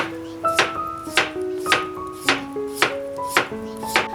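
A knife dices a potato on a cutting board for curry puff filling, giving eight crisp, evenly spaced chops about half a second apart, close and clear, with a faint pitched ring after each stroke.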